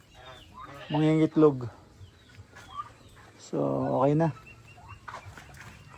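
Geese and turkeys in a yard with tires set out for them give two loud, harsh honking or gobbling calls close by, separated by a pause. A person speaks briefly between them.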